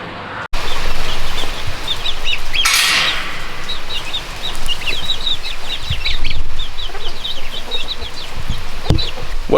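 High, rapid peeping from a brood of chicks and ducklings, steady and overlapping, close by, with a brief loud rustle partway through.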